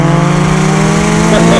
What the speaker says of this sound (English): this modified Tourer V might just be one of the best sounding cars I've ever driven.